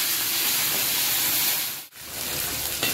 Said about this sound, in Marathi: थोडा कांदा लाल झाल्यानंतर आपण टाकत आहे अद्रक लसूण पेस्ट, घरी बनवलेली अद्रक लसूण पेस्ट